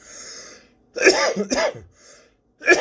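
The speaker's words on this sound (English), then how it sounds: "There's the pre-cough." A few sharp coughs and throat-clearing bursts, close and fairly loud, separated by short pauses with a faint breathy hiss between them.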